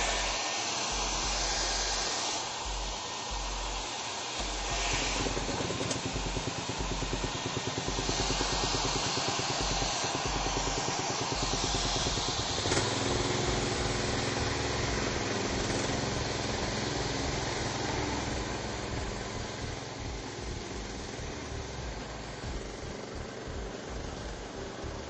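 Gas-powered Edco Turbo Max concrete floor grinder running steadily indoors, a loud continuous engine drone with a whining, buzzing grind that holds nearly constant, close-up and alone without speech.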